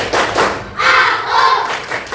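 Schoolchildren in a classroom perform the 'tepuk anak soleh' clap chant: heavy rhythmic claps and thumps under a chorus of young voices chanting together, close and lively.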